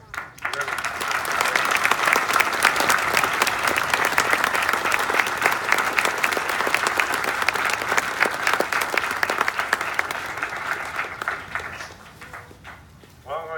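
A crowd at a 2019 Memorial Day ceremony in Westlake, Ohio, breaks into loud, dense applause that holds steady for roughly eleven seconds before thinning out and fading.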